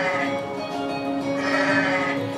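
Goat in the game Goat Simulator MMO giving a drawn-out, high, wavering falsetto bleat that is steady and fairly loud, with no talk over it.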